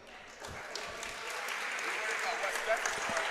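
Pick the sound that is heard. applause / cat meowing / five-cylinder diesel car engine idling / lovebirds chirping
applause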